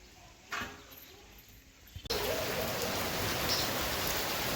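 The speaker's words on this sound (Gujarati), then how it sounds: "તો ગાઈસ આ અવાજ તમે સાંભળતા હશો ભાઈ, અમારા ગામમાં વરસાદ ચાલુ થઈ ગયો છે ભાઈ" Rain starts in a village and falls suddenly as a loud, even hiss of drops that keeps going after a quiet start with a faint knock.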